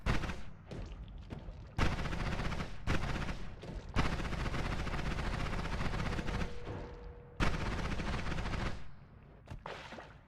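Dense, repeated explosions from a spell wand in the game Noita go off in a heavy carpet-bombing barrage, loud bursts stacking with short gaps and a brief lull near the end.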